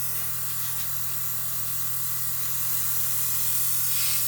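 Airbrush spraying heavily thinned paint, about 80% thinner, onto a 1/35 Rye Field Model M109A7 kit: a steady, even hiss running continuously at close range with no talk over it.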